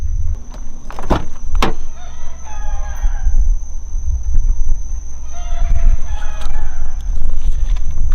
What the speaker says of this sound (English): Can you hear those chickens back there?